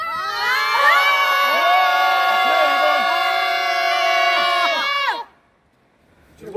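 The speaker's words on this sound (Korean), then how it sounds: "한 번에 함성 5초간 발사." A group at a winter cold-weather training camp lets out one loud, sustained shout together, voices massed and close for about five seconds before breaking off abruptly into near silence.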